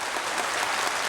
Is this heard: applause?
yes